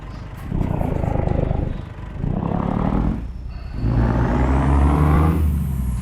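A heavy Scania R380 8x2 truck engine in Euro Truck Simulator 2 idles, then revs up in rising surges, its low rumble growing louder with each acceleration.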